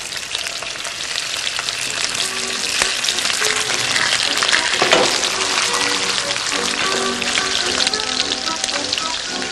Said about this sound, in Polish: Kotleciki jagnięce smażą się króciutko, więc już je zdejmuję z ognia.